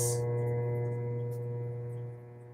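A pottery wheel turning slowly while a clay planter is thrown, heard as a steady low electric motor hum with a faint whine, close and unbroken, easing slightly quieter near the end.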